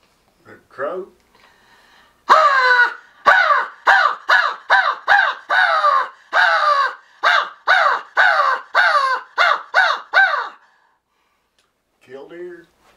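A voice imitates a crow, giving a rapid run of about fifteen harsh, evenly spaced caws, loud and close, with a short breathy sound before and a soft vocal trailing off after.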